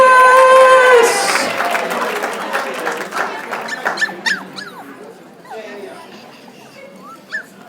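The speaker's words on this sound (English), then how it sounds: "Big round of applause." An audience at a pet fashion show awards claps and cheers, the applause fading over several seconds while dogs nearby whimper, yip and bark in short bursts, with a voice speaking over it.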